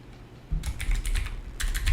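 Keys are struck on a computer keyboard in two quick bursts of close, crisp clicks over a low room hum.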